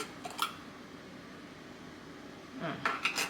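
A metal spoon scoops two teaspoons of powder, with two short clinking, scraping bursts at the start and end separated by quiet room tone.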